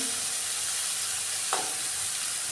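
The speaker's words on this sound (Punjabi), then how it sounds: "ਇਹਨੂੰ ਟਮਾਟਰ ਨੂੰ ਆਪਾਂ ਭੁੰਨ ਦਿੰਨੇ ਆ" Tomatoes sizzle while roasting in a pan for a halwai-style boiled potato curry, with a constant close frying hiss and one brief clink or scrape partway through.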